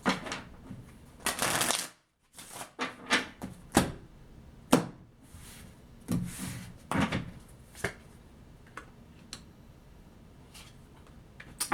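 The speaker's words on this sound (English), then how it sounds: "I'm going to shuffle one more time" Tarot cards being shuffled close up in repeated bursts of riffling and soft slaps, with brief pauses between handfuls.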